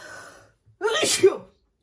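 A single sharp sneeze bursts out clearly and close by after a brief quiet murmur.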